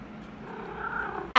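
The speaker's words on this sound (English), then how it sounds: "my cat likes to sit on me when I edit sometimes" A pet cat sits on someone's lap indoors and purrs steadily and softly throughout, a low continuous rumble, ending in a brief louder noise at the very end.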